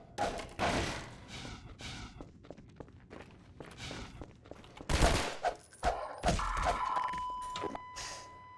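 In the shooter game Half-Life 2, a handful of sharp pistol shots crack among thuds and footsteps, with several bursts standing out over a busy, uneven backdrop of game sounds and no talk.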